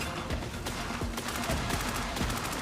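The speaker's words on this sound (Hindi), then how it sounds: "मैं बता दूं मुझे बहुत गोलियां लग रही हैं इस वक्त" Rapid gunfire in a shooter video game, with bursts of automatic shots and repeated sharp reports stacking up loud and close, nearly continuous throughout with no talking.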